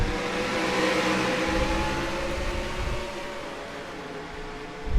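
Stock race cars accelerate at a green flag start on a road course at Canadian Tire Motorsport Park, a steady blended engine roar from a distance, fairly loud and continuous throughout.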